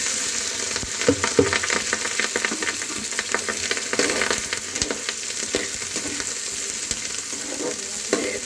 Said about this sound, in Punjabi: ਇਹਨੂੰ ਅਸੀਂ ਤਦ ਤੱਕ ਭੁਜਣਾ ਹੈ ਜਦ ਤੱਕ ਇਹ ਸਾਡੇ ਪਿਆਜ਼ ਚੰਗੀ ਤਰ੍ਹਾਂ ਲਾਲ ਨਹੀਂ ਹੋ ਜਾਂਦੇ